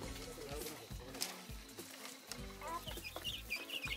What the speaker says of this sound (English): There's our little chicken hut for the chickens.